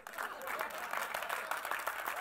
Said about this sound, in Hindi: तो मेरा ब्रीदिंग नॉर्मल हो गया ताली सुन के